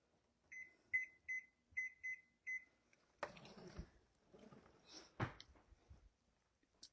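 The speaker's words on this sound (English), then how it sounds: "And I'm going to set the timer on 12 minutes" Electronic oven timer beeping in a series of six short, evenly spaced high tones while being set on a kitchen oven, followed by rustling and clattering kitchen noises.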